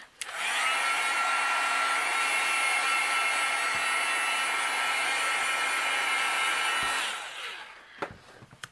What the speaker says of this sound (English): I'm going to use my heat gun to kind of help dry the ink.